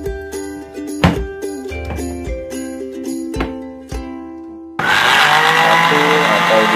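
A food processor set to pulse: short bursts of motor whir start and stop against a tinkling musical background, then the machine runs continuously with a loud, steady grinding roar.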